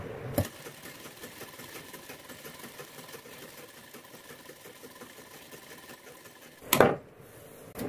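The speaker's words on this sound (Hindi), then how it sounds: "अब देखिए, इसको इस तरह मोड़ते हुए सिलाई लगा देना है।" A sewing machine stitches a folded strip of blouse fabric, running in a steady fast mechanical patter for several seconds between louder clunks at the start and near the end.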